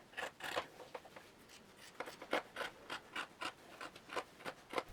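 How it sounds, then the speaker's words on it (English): Scissors cut through striped fabric for summer shorts in a close, quiet run of crisp snips that quicken into a fast, regular rhythm toward the end. "once I did that, I cut out both pieces."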